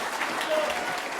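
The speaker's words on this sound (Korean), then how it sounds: "여러분 다 찬성하시면 박수로 우리 환영해 주십시오" A church audience applauds at a Korean Christian rally of public declaration, a brief burst of dense, steady clapping from a crowd.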